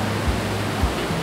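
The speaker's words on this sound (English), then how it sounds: "Cascading falls, and the water will go to the riverbank of Cateel River." Aliwagwag Falls in Cateel, Davao Oriental, cascading toward the Cateel River, heard as a steady, dense roar of rushing water with no breaks, loud and close throughout.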